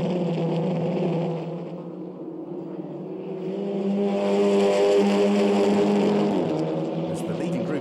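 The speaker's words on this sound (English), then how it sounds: "Cars out of the Vidal chicane." SEAT Leon Eurocup touring race cars at the Nürburgring accelerate out of a chicane, engines rising into a loud sustained roar with overlapping revs, under a commentator's voice.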